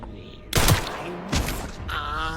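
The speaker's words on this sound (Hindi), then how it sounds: "भाई उसको मैंने 7 गोलियां मारी हैं" Gunshots in the video game Resident Evil Requiem: two loud, sharp blasts about a second apart, each with a short echoing tail, followed by quieter game sounds.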